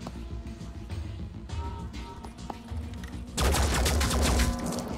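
Gunfire in the squad tactics game Phoenix Point: scattered shots and clicks under faint game ambience, then a dense, loud burst of rapid fire erupts for the final stretch.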